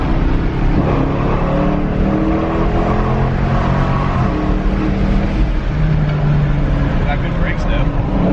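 Cadillac CTS-V first-generation (V1) engine droning and revving steadily while drifting, with gear shifts blurred into a continuous loud roar, voices talking over it throughout.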